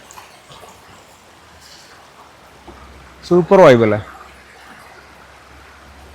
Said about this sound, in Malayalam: ആ പുഴയുടെ സൗണ്ട് ഒന്ന് നിങ്ങൾ ഒന്ന് കാതോർത്തേ